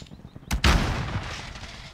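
Hostile gunfire in a shooter video game, heard as a sharp loud crack followed by a rolling burst of shots and a decaying rumble, close and prominent.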